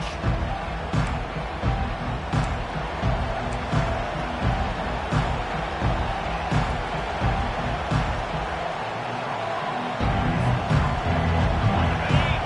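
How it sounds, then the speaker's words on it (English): A large stadium crowd at an American football game roars in a constant, rumbling wash of noise, with scattered sharp thuds and a swell of louder cheering near the end. "This crowd bringing the energy and noise early."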